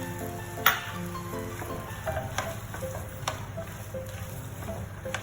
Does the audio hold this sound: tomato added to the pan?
yes